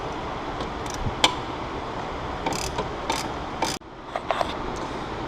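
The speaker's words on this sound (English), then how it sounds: "I'm going to use a number 7 socket to loosen the bottom part of the charge pipe" A ratchet with a number 7 socket loosens the lower charge pipe fitting on a BMW 335i/135i N54 engine, giving a run of sharp, close ratchet clicks with a brief pause partway through.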